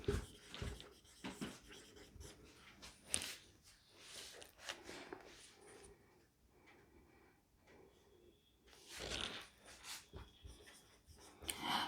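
Chalk or marker writing on a board during a lesson, heard as intermittent scratchy strokes in short bursts, fairly close and moderately loud, with quieter gaps between.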